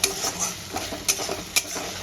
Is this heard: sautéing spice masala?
yes